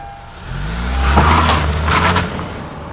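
A car engine rumbles low, then revs up with rising harmonic tones that swell and ease off, fairly close and loud.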